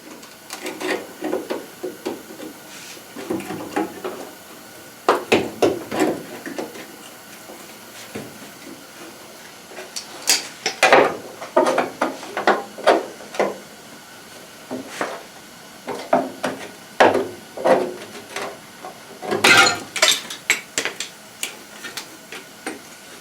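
Metal creaks and clanks in irregular bursts as a rusted cab corner panel is pried off a Chevy C10 pickup after grinding, with scraping and knocking scattered throughout.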